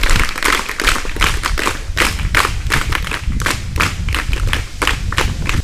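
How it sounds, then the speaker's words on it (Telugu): Students at a school notebook distribution event clap loudly and steadily, a dense, close burst of hand claps with irregular sharp peaks sustained throughout. "ఎలా తెలియజేస్తారు? గట్టి చప్పట్లతో."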